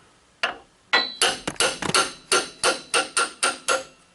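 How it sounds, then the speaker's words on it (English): Repeated sharp hammer blows on a wrench fitted to the Pitman arm of a 2002 Chevy 2500HD, about ten loud metallic smacks in a steady rhythm, close up with no talking. "smacked it with a hammer to get it loose."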